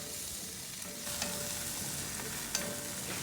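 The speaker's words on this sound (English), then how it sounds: "Today we're cooking with a Ward's cast iron skillet produced by WagnerWare." Breakfast hash fries in a Wards cast iron skillet made by WagnerWare, giving a steady close sizzle with a few faint scrapes of stirring and no voices.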